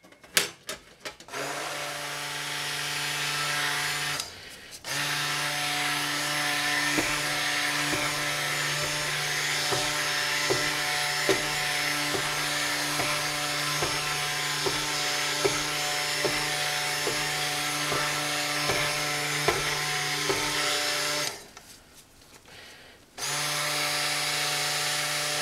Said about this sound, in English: now start to use my immersible mixer